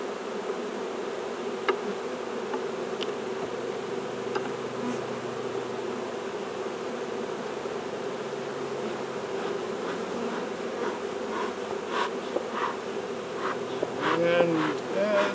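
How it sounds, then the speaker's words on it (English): Honeybees freshly transported in a nuc box, upset and buzzing in a dense continuous drone, with individual bees zipping close past now and then. "no wonder the bees are upset"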